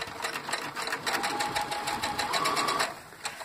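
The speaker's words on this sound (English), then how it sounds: "And we're just gonna sew this shut all the way down." A sewing machine runs a steady, rapid stitching burst for about three seconds while seaming a fabric shoulder bag strap, close and fairly loud, then stops briefly and restarts faintly.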